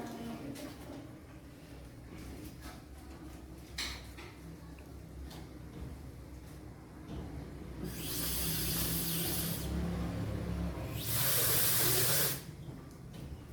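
A small spray nozzle from a home lab kit fires water in two sustained hissing bursts, the second louder, after a stretch of quiet ticks and handling.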